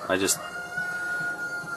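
A chicken lets out a short, loud squawking call up close, followed by a quieter stretch with a steady tone in the background.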